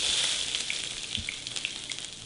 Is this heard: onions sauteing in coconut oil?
yes